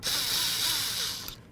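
A ratchet and socket drive the door handle screws on a 2006-10 Ford Explorer, making a continuous close whirring, ratcheting buzz for just over a second before it stops abruptly.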